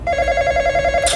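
Phone ringing in the horror video game The Intruder: a rapid electronic trill that pulses evenly for about a second, clear and close with no talk over it.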